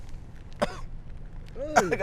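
A person coughs and clears their throat a couple of times, close by, with short voiced bursts and quiet gaps between.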